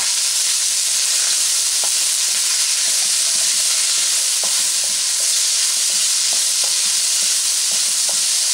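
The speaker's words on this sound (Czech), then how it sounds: "a za stálého promíchávání se smažíme ještě 2 minuty" Peas and broccoli florets stir-fry in a pan with a loud, constant sizzling hiss, punctuated by soft scraping and clicking as they are stirred continuously.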